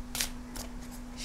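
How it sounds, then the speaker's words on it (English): A tarot card deck being shuffled by hand, several quick riffling bursts of card flutter spaced unevenly over a faint steady hum, close and moderately loud with no talking. "then I'll shuffle the rest of the tarot"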